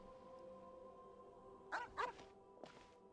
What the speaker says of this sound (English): Where did this dog come from, Flynn's?